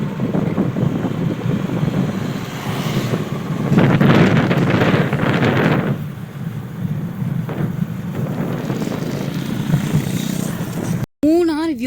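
Wind blowing across a sunny hill viewpoint in Munnar, buffeting the microphone in steady gusts that swell and ease, with voices talking faintly underneath and a brief dropout near the end.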